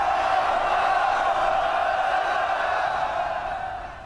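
A roaring crowd in the video game Thronebreaker: The Witcher Tales cheers and applauds loudly and steadily, a dense wash of voices that fades slightly at the end.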